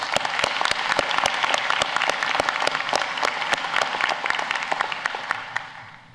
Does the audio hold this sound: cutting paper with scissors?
no